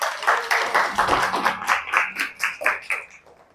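A small group in a classroom-style session claps in an uneven, loose rhythm, with distinct individual claps close to the microphone that gradually thin out and stop.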